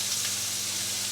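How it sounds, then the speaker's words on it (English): Beef sizzles steadily in a hot oiled pan, a close, bright crackling hiss that holds evenly throughout the short moment. "Here that's sizzling."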